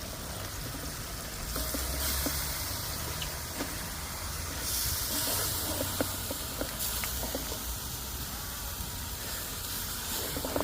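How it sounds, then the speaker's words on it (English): Chicken cook-up rice sizzling steadily in a pot while being stirred, with a constant frying hiss and scattered scraping clicks from the spoon, close and continuous. "Alright guys, so let's stir this up."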